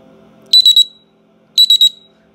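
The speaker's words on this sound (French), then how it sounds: "Ça, c'est le système d'alarme." An electronic home alarm system beeps in two bursts of three rapid, piercing high-pitched tones, loud and close, with a quiet pause between bursts.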